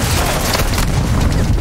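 Dense, continuous bursts of Call of Duty: Warzone 2.0 gunfire with heavy booms, loud and close, filling the whole moment.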